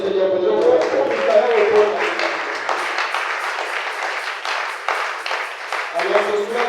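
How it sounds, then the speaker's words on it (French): A church congregation applauds and claps together in a sustained, moderately loud round that carries on for several seconds, with a preacher's voice over the start and end. "On peut applaudir le Seigneur pour nous."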